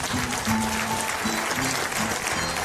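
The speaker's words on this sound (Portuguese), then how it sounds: "muitas palmas." Steady, dense crowd applause at a village festival in Porto Judeu on Terceira in the Azores, continuous and fairly close, with faint voices or music under the clapping.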